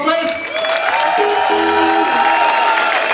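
Concert crowd applauding and cheering for the band at a show in České Budějovice, with sustained dense clapping under a ringing sustained music tone and a loud, full, continuous wash of sound.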